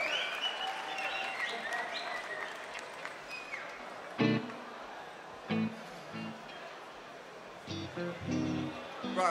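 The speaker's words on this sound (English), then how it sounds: "Big round of applause for Martin Herbert, please." Jazz concert audience clapping for a band member, a moderate spread of applause running throughout, with a few louder thumps and bursts standing out along the way.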